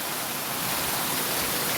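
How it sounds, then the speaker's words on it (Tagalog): Heavy rain pours down steadily, a dense, loud, continuous wash of noise close by with no pauses and no voices. "Oh, lakas ang ulan."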